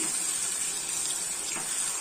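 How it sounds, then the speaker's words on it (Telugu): Water poured from a glass into a pot of pepper chicken curry, a steady close splashing gush that runs without a break, fairly loud, with no voices. "ఇప్పుడు మనకు కావాల్సినంత వాటర్ పోసుకోవాలి"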